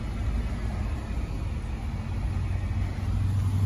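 A VW Kombi van engine idling: a steady, low, rumbling drone close to the microphone, heard alone with no voices.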